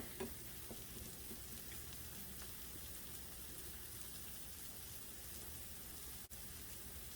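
Scrambled eggs with chorizo frying in a pan for breakfast tacos, a steady soft crackling sizzle that holds evenly throughout, with a brief clink near the end.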